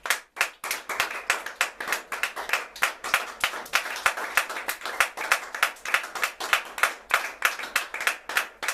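A church congregation claps together in a loud, rhythmic burst of applause, steady handclaps keeping a regular beat close by for several seconds, with no voices over them.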